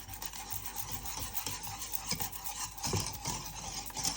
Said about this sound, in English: Pop in your cold butter and again, give this a whisk.